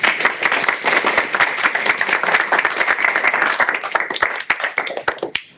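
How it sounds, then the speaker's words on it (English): Loud, close applause from a meetup audience for a speaker after a tech talk, many hands clapping densely before thinning into a few scattered claps at the end. "Round of applause for Amy,"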